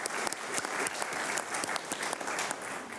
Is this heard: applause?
yes